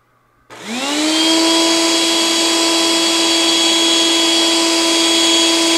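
A Eureka The Boss Super Lite vacuum cleaner switches on after a brief quiet moment, its motor rising quickly to a loud, steady whine with a strong tonal hum that holds to the end.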